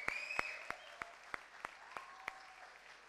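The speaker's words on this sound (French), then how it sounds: "Au Père Nanja, on les applaudit bien bien fort." A church congregation claps together in a steady, evenly spaced rhythm of about nine sharp, distinct beats, with faint voices or a high call sounding over the first claps.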